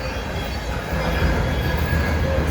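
A CN freight train with a red brick boxcar rolls past near the VIA station in London, Ontario, its close, loud rumble of wheels and rattling cars carrying on throughout with faint squeals.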